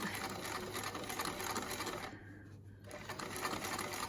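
A sewing machine runs a continuous stitch down a 15mm seam allowance on a fabric face mask, steady and close, briefly pausing before resuming.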